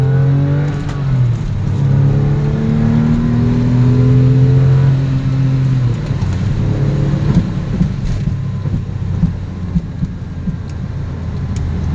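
A car engine revs and accelerates hard, its rising whine climbing in pitch through several gears before settling into a rough, steady drone with road rumble, loud and close, without speech.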